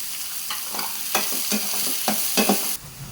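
Broccoli stems and capsicum fry in a hot pan for rava upma, with a steady sizzle and several sharp scraping stirs in an irregular rhythm, close and moderately loud, and no talking.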